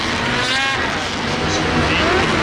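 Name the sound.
old snowmobiles racing on a track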